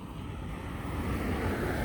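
Outdoor wind rushes in a steady, broadband blow, with a faint surf-like roll underneath. Nobody speaks over it.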